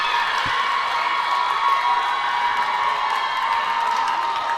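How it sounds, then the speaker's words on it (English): Steady crowd cheering fills a women's championship game venue, a dense, continuous roar of voices with a few whoops rising out of it, loud and sustained throughout with no let-up. "the crowd's kind of going crazy right now"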